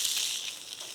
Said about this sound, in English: we're just gonna cook this until it renders down and gets nice and brown